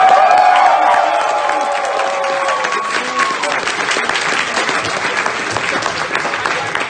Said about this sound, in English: Give an extra round of applause for Christine.